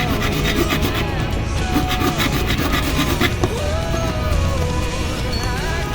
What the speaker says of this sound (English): now we're going to cut off the legs very carefully, that is, using this handsaw